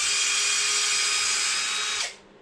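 A power drill whirs steadily on the small screws of an Arrma Infraction V2 RC car, a loud continuous high whine that cuts off abruptly near the end.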